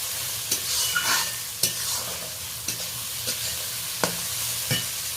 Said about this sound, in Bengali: রসুনটা দেওয়ার পরে ভালোভাবে আমি নেড়ে নিচ্ছি 2-3 বার।